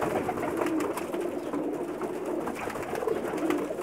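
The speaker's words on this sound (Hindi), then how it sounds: "एक डब वाला कबूतर दिखा रहा है जी आपको" Steady repeated cooing from a dub-type pigeon, soft rhythmic coos continuing throughout at close range with no talking.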